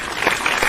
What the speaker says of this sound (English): A little hand clap for that.